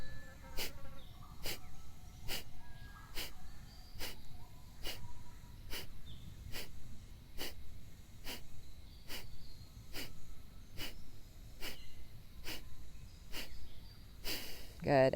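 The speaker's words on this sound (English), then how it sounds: "only breathing now through the nose and the nostrils" Kapalabhati breathing: short forceful exhales through the nose, repeated about fourteen times at a steady rhythm of roughly one per second, each a sharp close puff of air over quiet room noise.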